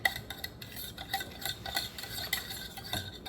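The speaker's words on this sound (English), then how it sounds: "There's still some on the bottom, so I'm just kind of stirring it up." A spoon scrapes and clinks steadily through thickening yellow banana pudding mixture in a cooking pot. The strokes are close, light and rhythmic, with no talking.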